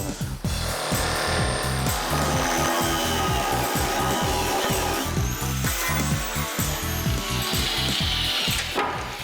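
Power tool cutting into a wooden box during a camper van build, a loud, continuous, rhythmic rasping saw sound running throughout with no voices over it.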